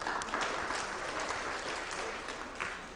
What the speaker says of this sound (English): you can actually clap louder than that.